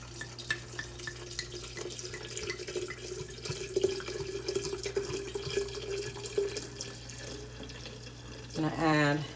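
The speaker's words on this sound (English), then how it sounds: "now you want to add the red wine of your choice" Red wine pours in a steady stream into a sangria mix, a soft continuous splashing close by that ends in a quick rising gurgle as the vessel fills.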